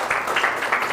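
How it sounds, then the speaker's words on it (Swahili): Audience applause at a school event at Nairobi Muslim Academy, a steady clatter of many hands clapping with a few louder swells, close and fairly full, with no talk over it. "Si mnipigie makofi bana"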